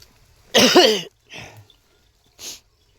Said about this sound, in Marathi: सर्दी झाली मित्रांनो आणि खोकला पण आहे त्याच्यामुळं थोडं खोकलतो आहे मध्ये मध्ये